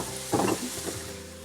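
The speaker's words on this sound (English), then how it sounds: "we're going to deglaze with a little bit of white wine." White wine hitting a hot pan of mushrooms and onions to deglaze it, bursting into a short, loud hiss that fades to a softer sizzle over a low steady hum.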